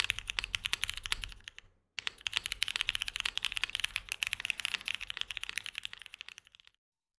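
Cherry MX Black mechanical keyboard switches, broken in a million times, clacking in a steady stream of close, crisp keystrokes with a short pause near two seconds, no voices.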